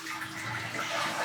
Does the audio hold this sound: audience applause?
no